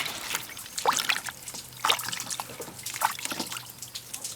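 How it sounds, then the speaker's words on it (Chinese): Wild shrimp being rinsed and thawed in water, with soft trickling and dribbling splashes that come in a few brief bursts, close by and fairly quiet. "把这虾给淘洗一下，解冻"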